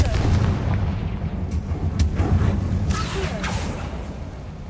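Confringo spell blast in the Hogwarts Legacy video game, loud booming explosions with sharp cracks and a rumbling low tail, fading gradually after the impacts.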